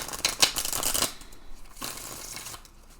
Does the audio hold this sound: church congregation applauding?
no